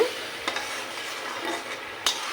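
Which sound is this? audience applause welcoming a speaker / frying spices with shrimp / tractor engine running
frying spices with shrimp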